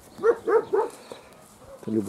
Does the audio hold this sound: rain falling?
no